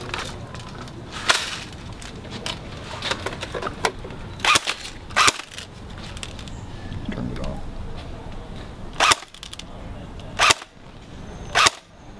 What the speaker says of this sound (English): Today we're going to go ahead and chrono with an AEG.